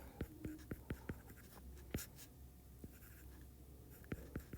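Pen or pencil scratching across paper in short, quick strokes while a math problem is worked by hand, with crisp, close taps and scribbles in a quiet room.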